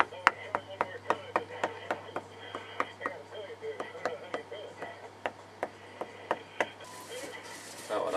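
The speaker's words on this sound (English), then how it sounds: "Prick the dough." Fork tines prick pizza dough in a home kitchen, making a steady series of sharp, close taps roughly three per second that continue for several seconds against a low electrical hum.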